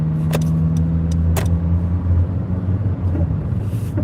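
A McLaren sports car driving past: a loud, steady low engine rumble close by for several seconds, with no voices over it.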